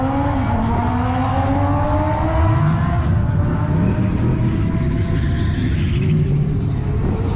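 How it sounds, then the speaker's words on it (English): EcoBoost Mustang at a dragstrip rolls up with a steady low engine rumble that rises and falls, blended with surrounding crowd and vehicle noise, fairly loud and continuous with no clear talk. "There he is, pulling up the Mustang."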